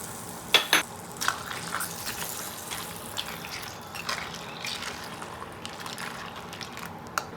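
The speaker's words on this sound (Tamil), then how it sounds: "இப்போ இந்த குழம்பு வந்து நல்லா கொதிக்கட்டும்." Vatha kulambu, a tamarind curry with fried sundakkai vathal, bubbling and simmering steadily in a pot, with a few soft clinks and stirring sounds near the start; no talking.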